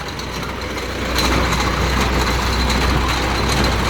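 A tractor's heavy diesel engine runs steadily close by, a low droning idle that rises slightly in loudness partway through.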